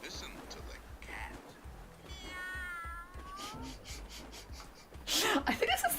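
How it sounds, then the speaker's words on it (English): A toy cat lets out an electronic meow, a wavering, pitched call lasting about two seconds, with quieter handling noises before it and a louder clatter afterward. "Listen to the cat."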